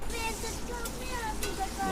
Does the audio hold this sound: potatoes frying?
yes